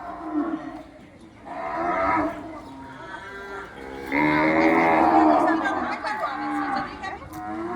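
Several cows moo at a cow shelter, long drawn-out calls rising and overlapping across the clip, fairly close and loud, with no talking over them.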